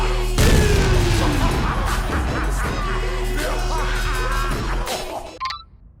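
Sticky bomb launcher explosions from Team Fortress 2 burst out in a loud, dense run of booms that pile onto one another, then cut off abruptly at the end.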